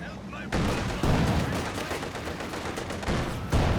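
LMG Grenadiers open up with machine-gun fire in Company of Heroes 2, bursts of rattling gunfire and battle noise layered under ongoing commentary.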